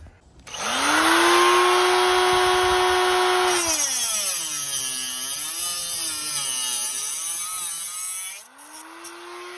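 A power saw cuts through sheets of Hardie backer cement board for the interior walls of a DIY Russian dry sauna, a loud steady whine that shifts pitch and wavers as the blade loads, running continuously close up without talk.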